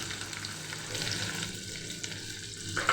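Chopped onions sautéing in a pan for a cauliflower kheema give a steady, close sizzle with a bright hiss. A few small stirring clicks and scrapes run through it, with no voices.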